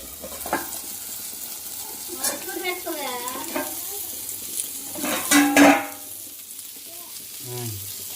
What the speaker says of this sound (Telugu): చేపలు బాగా ఫ్రై అయిపోయినాయి.